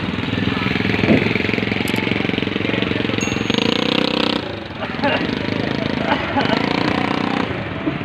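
Heavy equipment engine lowering two fishing boats into the water at once, a loud, steady diesel chugging and idling with rattling mechanical clatter, brief dips in power, close by.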